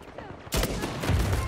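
Gunshots in Uncharted 4 ranked multiplayer, starting with a sudden loud burst and continuing as rapid repeated shots, close and dense for about a second.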